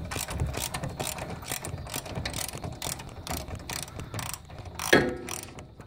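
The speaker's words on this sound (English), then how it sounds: "we're going to start by undoing these bolts on the back here" Socket wrench ratcheting as rear brake caliper bolts are undone on a Holden VY, a close, busy run of metallic clicking strokes with a louder clank near the end.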